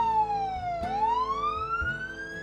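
Emergency vehicle sirens sounded by first responders at a Patriot Day memorial in O'Fallon, Missouri wail, sweeping down and then back up in pitch, loud and continuous, with a low rumble beneath.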